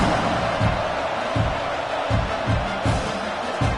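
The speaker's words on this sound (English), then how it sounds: "this crowd is feeling themselves after that last drive" Steady roar of a stadium crowd at a college football video game, Washington versus Oklahoma, swelling under rhythmic low thumps of drums or chants, loud and continuous throughout.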